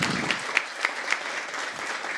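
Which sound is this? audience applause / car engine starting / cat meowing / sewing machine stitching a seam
audience applause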